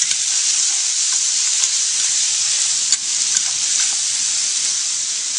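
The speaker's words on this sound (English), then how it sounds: "I'm going to saute those up so the mushrooms are soft and the bacon's cooked" Bacon and mushrooms sauté in a pan, giving a steady, close sizzle and crackle that never lets up, with a few faint stirring clicks and no voices.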